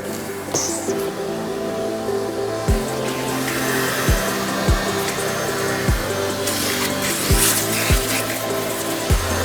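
A vacuum cleaner hums steadily at close range inside a car, its motor drone broken by repeated thumps and scraping as the nozzle works around the seats and seams.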